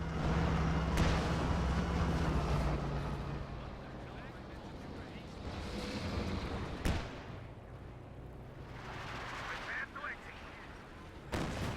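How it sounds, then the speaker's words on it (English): Shells from a B4 super heavy howitzer in Company of Heroes 2 land with sharp, heavy booms at a few points, over a dense, continuous rumble of battlefield noise. "You got a B4 super heavy howitzer, fully built, has claimed 2 kills."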